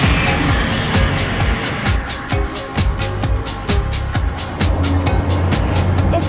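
Dense Times Square street traffic with cars and cabs passing in the heart of Theatreland, a steady loud wash of engine and tire noise with repeated vehicle pass-bys and occasional horn-like tones, no talk.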